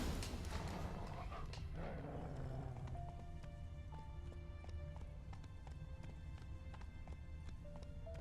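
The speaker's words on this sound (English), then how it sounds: "That's his horse." Hooves of Scorpion, a horse in the video game Witcher 3, clip-clop steadily at a trot, clear and fairly close, with a faint neigh and a light game soundscape beneath.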